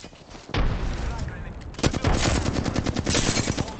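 Rapid bursts of automatic gunfire in a competitive shooter match, dense and loud, with repeated shots rattling steadily after a sudden onset and continuing through to the end.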